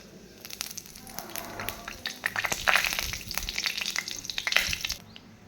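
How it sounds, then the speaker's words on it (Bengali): Whole bay leaf, cumin seeds and a dry red chilli tempered in hot oil for a banana flower dish, crackling and spitting briskly up close, building in intensity before cutting off. "এবার আমি ওই তেলের মধ্যে আর একটু তেল মিশিয়ে ফোড়ন দিয়ে দেবো"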